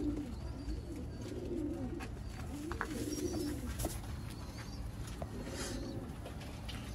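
Pigeons coo repeatedly in soft, rolling phrases, with a few sharp clicks and background bird chatter.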